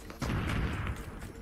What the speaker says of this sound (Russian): Взорвал.